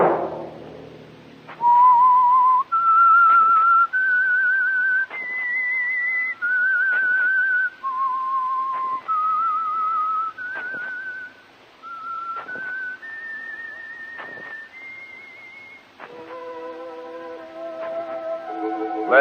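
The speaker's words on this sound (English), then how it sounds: "Let that whistle be your signal for The Whistler" A lone person whistles the melodic theme of The Whistler radio show, a clear sequence of sustained, wavering pitched notes with brief gaps between phrases, ending as a soft musical chord enters.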